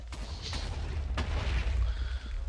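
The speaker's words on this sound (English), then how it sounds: "Whoa, there's explosions going on." Muffled booms and blasts from a video game go off in quick succession in the bowels of a ship, a few sharp cracks standing out against a rumbling low background.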